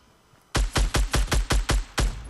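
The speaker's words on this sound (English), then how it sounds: "Why is she shooting at somebody else?" A burst of automatic gunfire in the Fortnite Battle Royale video game, about eight loud evenly spaced shots fired in rapid succession after a brief quiet moment.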